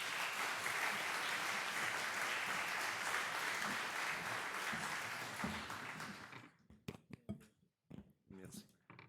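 Warm, sustained applause fills an official opening ceremony hall in French Polynesia as the High Commissioner is welcomed; the clapping fades after about six seconds and a voice begins speaking.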